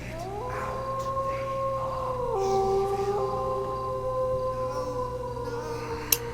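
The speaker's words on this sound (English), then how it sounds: "That was just a dog howling." A dog howls in the Shivers video game, long sustained wailing tones that rise and drop in pitch over several seconds, fairly clear over a low background hum, ending with a brief sharp click.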